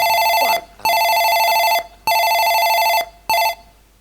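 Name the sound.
telephone ringing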